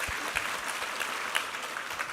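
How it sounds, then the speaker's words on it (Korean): A church congregation at a Sunday worship service claps together in steady, dense applause, moderately loud and filling the space with no voices on top. "우리 하나님께 감사와 영광의 박수 올려드리겠습니다"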